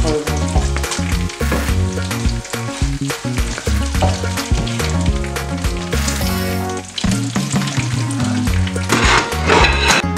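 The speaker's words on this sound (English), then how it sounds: "Wow, so I'm done with the frying of my snail." Snails fry loudly in a hot pan with a dense, crackling sizzle and occasional stirring scrapes, continuous and close throughout with no speech.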